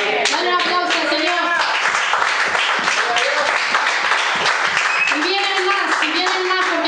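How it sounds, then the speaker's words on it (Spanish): A church congregation claps for the Lord, a lively rhythmic burst of many hands with voices and singing mixed in and talk rising over the clapping. "Dale un aplauso al Señor."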